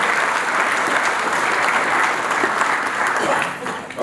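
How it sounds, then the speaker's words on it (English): Business conference audience applauding a speaker, a sustained, full wash of clapping from a sizeable crowd that stays loud and even before tapering off at the end. "Another round of applause for Dr."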